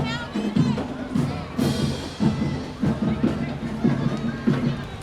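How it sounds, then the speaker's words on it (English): A cheerleading squad performs in a Christmas parade, with rhythmic chanted cheers, claps and stomps repeating in bursts. Nearby crowd noise runs underneath. "And there they go, cheering away."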